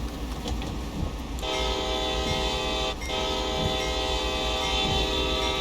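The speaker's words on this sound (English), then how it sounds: "you redeemed Honk the Horn, so this is what I did" Loud, sustained horn of a CSX freight locomotive at Sand Patch, sounding from about one and a half seconds onward over steady engine and rail rumble, continuing to the end with a brief dip near the middle.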